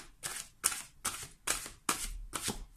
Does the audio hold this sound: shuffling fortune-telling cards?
yes